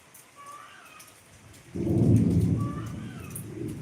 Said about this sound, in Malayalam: ഇവിടെ മഴയിടിയൊക്കെയാണ് വലിയ ഇടിയില്ല ചെറിയ ഇടി